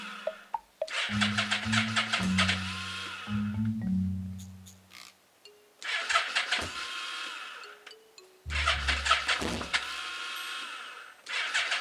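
A Yamaha Vmax 1200 motorcycle with hard starting, its choke pulled fully, cranks on a jump start from a car in three separate bursts of whirring starter and engine churn, loud and close, separated by brief pauses.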